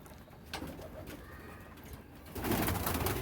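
Soft pigeon cooing drifts in the background amid rustling and ambient noise, with a louder scuffle toward the end.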